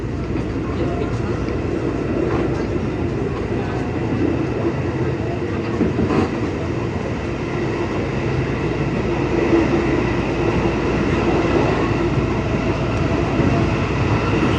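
A KRL commuter train pulls away from Pasar Minggu Baru station, recorded from inside the carriage as a loud, steady rumble and rolling wheel noise that carries through the whole stretch.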